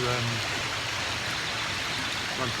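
Small river flowing into Loch Lomond below a bridge, a steady broadband rush of running water heard close by, with a voice talking over it at the start and end.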